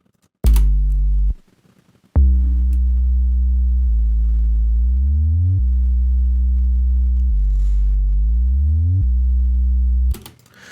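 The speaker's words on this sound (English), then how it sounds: "First off, we have an 808," A deep, sustained 808 bass in FL Studio plays a few long notes, some gliding smoothly up or down between pitches. No other instruments or voices.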